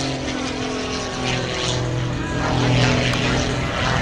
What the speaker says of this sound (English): still turning the airplane as she continues right back down to the far right side, the east end of the aerobatic area